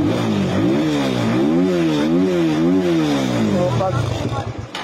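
A RUSI Flash motorcycle engine with a fault that makes it stall revs up and down repeatedly in rising and falling sweeps, loud and close, then the rhythm falters near the end.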